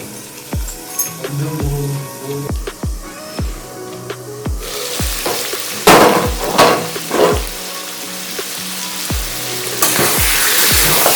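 Chicken pieces sizzle loudly in a hot pan for a curry, with repeated sharp clinks and scrapes of a spatula stirring at an uneven rhythm, close up and without talk.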